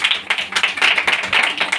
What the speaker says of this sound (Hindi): ताली बजाओ उस खुदा